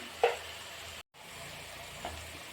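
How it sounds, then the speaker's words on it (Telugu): Onions fry in a pan with turmeric and salt for a Telugu chicken dish, giving a quiet, steady sizzle broken by a couple of soft stirring clinks and a brief dropout. "ఆనియన్స్ అయితే గోల్డెన్ బ్రౌన్ షేడ్ వచ్చేంత వరకు వేయించేసుకుందాం"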